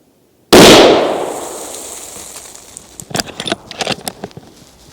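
A single loud, close rifle shot from a Haenel Jaeger NXT straight-pull in .30-06, fired outdoors on a cold day, with a sharp crack decaying into a long rumbling tail, followed by scattered faint clicks and knocks.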